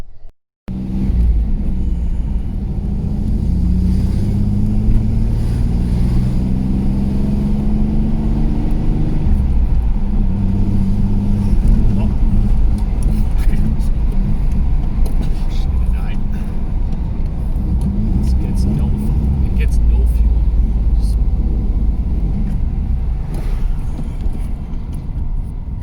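A 1983 Chevrolet Camaro with a running problem drones on a drive test, its engine a loud, steady low rumble with shifting pitch from inside the car throughout.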